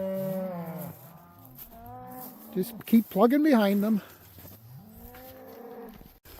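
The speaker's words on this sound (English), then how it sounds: "so we'll get these cattle gathered up" Sale heifers on a farm give several loud, drawn-out moos in succession while someone talks over them outdoors.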